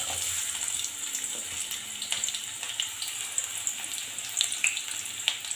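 Chopped onions frying in two spoons of oil for cabbage gobi manchurian, a continuous hissing sizzle with scattered crackles and light pops, close and steady without speech.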